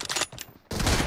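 Rapid burst of gunfire from the battle royale game BGMI, a dense fusillade of shots, a short gap, then another loud sustained volley, close and alone without talk.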